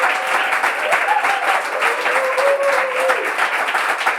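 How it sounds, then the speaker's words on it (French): Audience applauding at a Bible quiz event, a loud, sustained wash of clapping from a crowd. "on peut applaudir bien fort"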